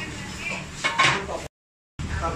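Metal cookware clanks and scrapes close by, a busy clatter of a large pot with a brief silent gap before the clattering resumes.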